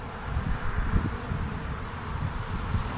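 Honeybees hum and buzz steadily around an opened hive during a spring inspection of brood frames, a dense low drone that stays close and constant with no talk.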